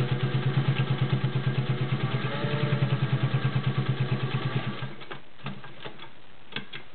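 A 1951 Singer 201-2 Centennial sewing machine with a potted motor and size 16 needle stitches through eight layers, a fast, even mechanical chatter of rapid repeated beats, close and steady, that stops partway through, leaving a few light clicks.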